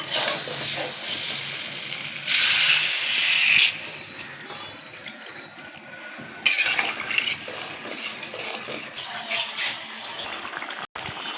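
Water poured into a pan of sizzling fish and potato curry, a loud hissing splash that drops to a quieter simmering bubble with occasional utensil clinks.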